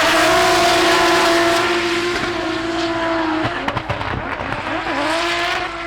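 Drift cars at a drift championship hold a loud, steady engine drone, then burst into revs, with rough, crackling skid and tire noise near the end of the run. No one speaks.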